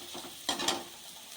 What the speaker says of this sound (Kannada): ಈಗ ಏನು ಮಾಡೋಣ ಅಂದರೆ ಟೊಮೆಟೊ ಮಿಕ್ಸ್ ಮಾಡೋಣ